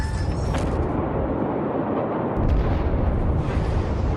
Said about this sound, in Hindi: पहला धमाका हुआ, उसके बाद दूसरा धमाका।